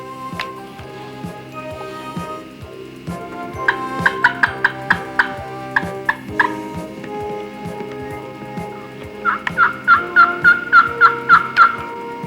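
A wild turkey gobbles repeatedly in the open during a spring hunt, with loud rattling gobbles sounding close and clear over a steady, faint background.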